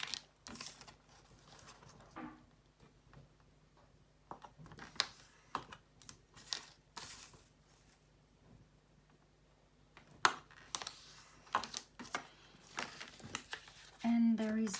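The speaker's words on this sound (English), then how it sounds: "while I'm folding, I'm going to do all these extra folds" Paper being folded and creased for a shabby-style Christmas trifold folio, with crisp intermittent crinkles, taps and sliding rustles scattered irregularly, fairly close, under a quiet voice explaining the steps.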